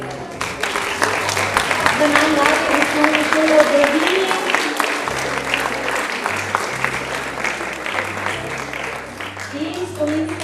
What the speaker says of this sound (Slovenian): Še en spodbuden aplavz